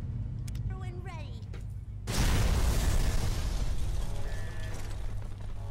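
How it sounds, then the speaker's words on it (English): A death ray in Fallout 3 fires on a ship: a few thin, warbling, voice-like tones give way to a sudden loud blast that holds as a dense, sustained roar. "And I get to aim the death ray."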